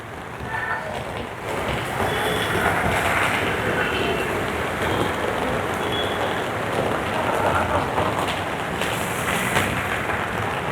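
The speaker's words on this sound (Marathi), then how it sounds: "कालपासून मुंबईमध्ये जोरदार आहे ते पाऊस पडायला सुरुवात झालेली आहे" Dense, steady heavy monsoon rain hiss with gusty wind noise across the whole stretch, loud and close, with faint tonal sounds in the background, in Bhandup, Mumbai.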